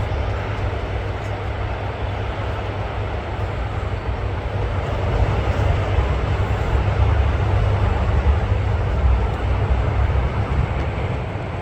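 A Norwegian airliner taxiing past at Manchester Airport, a steady broadband jet engine roar that holds at a constant level and swells slightly toward the middle, heard from nearby with no talking.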